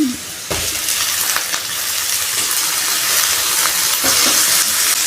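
Tomatoes sizzle and fry in a pan with garlic and ginger, a steady hissing crackle that starts abruptly and holds loud and close throughout, with occasional stirring scrapes.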